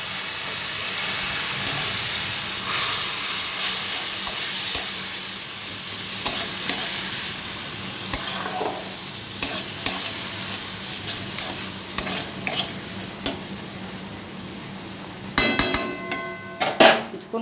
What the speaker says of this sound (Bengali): এই পর্যায়ে মশলাটাকে কষাবো।